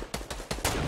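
Video game gunshots ring out as a few sharp, loud reports in quick succession, each a broadband crack, the last one longer with a sustained tail.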